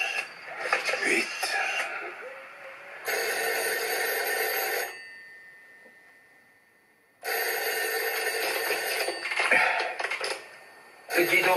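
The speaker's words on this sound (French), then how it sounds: "Dis donc, c'est le téléphone." A telephone bell rings in two sustained bursts separated by a quiet gap, then starts again, loud and close, with voices talking over it in between.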